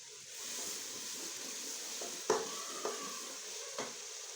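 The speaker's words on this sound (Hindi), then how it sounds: "तो 2 मिनट तक पकाएंगे। ये जो मसाला हमारा भून चुका है।" Spice masala frying in a pot under a steady hiss, with a few distinct scrapes and taps of a stirring spoon toward the end.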